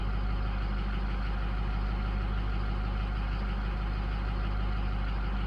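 Truck engine running after a cold start before a lifter replacement, a steady, close, droning idle with an even low rumble throughout and no voices.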